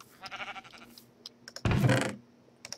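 Sheep bleat in a farming video game, with a wavering cry near the start and a louder, abrupt bleat midway, followed by faint clicks.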